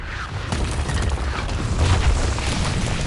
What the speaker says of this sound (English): The Skyfire is bombing us